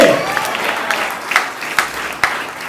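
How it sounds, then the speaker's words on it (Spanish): An audience at a church sermon claps in praise of God, a fairly loud spread of many hands with a few sharper individual claps standing out near the end. "Brinde un fuerte aplauso a Dios y a su nombre"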